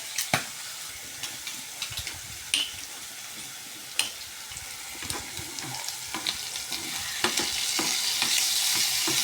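Prawns sizzle steadily as they fry in a pan, being turned over for a boy's lunch, with scattered clicks and scrapes over a crackle that builds toward the end; no voices.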